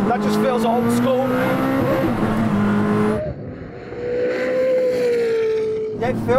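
A hypercar driven in manual mode revs hard and accelerates, its engine note climbing in pitch, easing off briefly, then pulling again, with tire noise and people talking over the loud, close engine.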